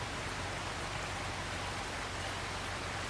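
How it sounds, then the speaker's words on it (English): Steady rain pours in Farming Simulator 25, a dense, even hiss of falling water with no breaks, filling the whole moment without any talk. "Oh, it's gonna rain until 2 o'clock."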